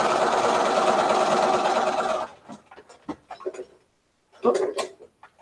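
Sewing machine chain piecing fabric for a quilt block, a steady loud mechanical whir running for about two seconds, then stopping, followed by quieter handling clicks and brief sounds.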